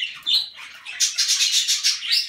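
Several birds squawk and screech close by inside a breeding box, in quick, overlapping calls, shrill and harsh, with no voices present.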